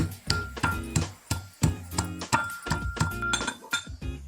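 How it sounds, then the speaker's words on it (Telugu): Raw garlic is pounded by hand, about a dozen sharp, ringing strikes in an uneven but steady rhythm, each with a brief metallic clink, close up and alone. "ఇగో ఎల్లిపాయ పచ్చ దంచుకోవాలి."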